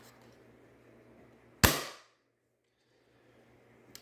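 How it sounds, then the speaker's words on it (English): Dry fire of a Silly Shell Radson XL toy blaster loaded with a sniper shell: one sharp, loud snap with a brief decaying tail, alone in a quiet room. "I'm going to dry fire this blaster so y'all can hear it."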